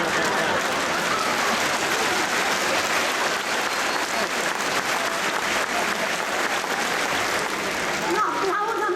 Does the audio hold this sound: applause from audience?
yes